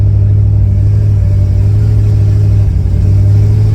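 A C6 Corvette engine drones steadily at about 1,500 RPM at 5 mph with a slipping torque converter, loud and continuous with a deep rumble that never lets up.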